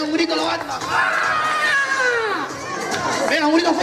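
Children at a Puntallana carnival day event shout together in a loud, sustained group cry, with shrill high voices and squeals rising and falling over about four seconds amid a noisy outdoor crowd.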